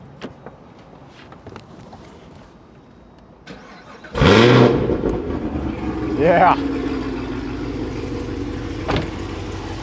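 A modified Camaro ZL1 with long tube headers and a Griptec pulley fires up and revs loudly, rising in pitch before settling into a throaty idle, with a person talking briefly beforehand.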